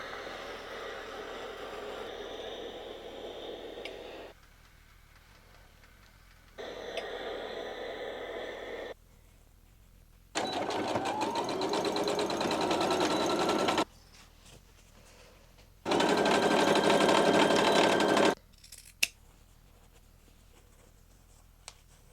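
A sewing machine stitches across fabric ends in four bursts, each running a few seconds at a steady whirring pace, with quiet pauses between them and rising loudness in the later runs.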